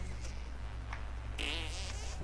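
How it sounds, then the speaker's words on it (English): A short squeaky fart sound effect from a character in South Park: The Stick of Truth, heard once over a constant low game ambience. "Let out a sneaky squeaker again."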